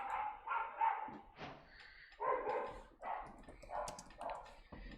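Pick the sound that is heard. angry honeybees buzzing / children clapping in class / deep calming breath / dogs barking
dogs barking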